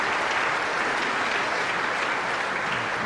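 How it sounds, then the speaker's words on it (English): A snooker audience applauding steadily at the 1994 UK Championship, dense clapping from a crowd at even volume throughout, no speech over it. "Just let the applause die down"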